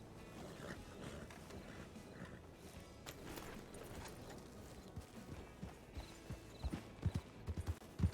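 Horse running in the RedM (Red Dead Redemption 2) video game, hooves thudding faintly at first and then growing into louder, quicker clip-clop beats toward the end, heard over a low ambient background.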